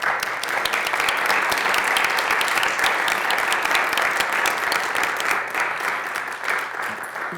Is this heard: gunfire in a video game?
no